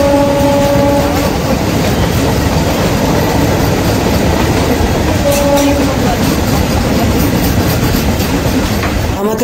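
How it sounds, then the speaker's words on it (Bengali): Kolkata Sairang Express running on the Sealdah–Lalgola line, with a loud steady rumble of rolling wheels and carriages throughout and brief horn-like tones near the start and middle. "আমাদের ট্রেন এখন শিয়ালদহ গেদে মেন লাইন থেকে আলাদা হয়ে শিয়ালদহ লালগোলা লাইনের দিকে এগোচ্ছে।"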